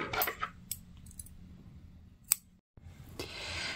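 Scissors snip through crochet yarn in a few quick, close, crisp cuts, separated by brief quiet pauses and a light metallic clink.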